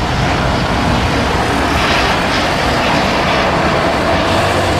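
A toy Garuda Indonesia passenger airplane in flight is paired with a dense, continuous engine roar that stays loud and even throughout, with no pauses.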